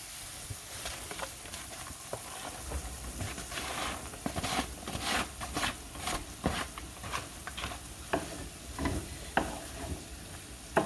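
Hamburger meat and onions frying in a pan for a cheeseburger casserole, a steady low sizzle with scattered crackles and stirring clicks throughout, fairly quiet and close, with no talking.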